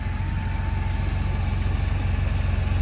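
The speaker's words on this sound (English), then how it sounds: "Motor sounds great. It idles really nicely." A 1987 Porsche 930 Turbo engine idles steadily and close by, a smooth, even low rumble with a fine rapid pulse that holds constant throughout.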